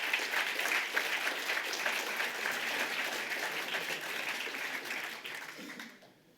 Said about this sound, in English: So I think maybe there is an applause for everybody in the room for all the work that you did.